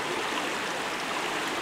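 A mountain river runs steadily near its source, its water rushing and babbling in a constant, even wash with no voices.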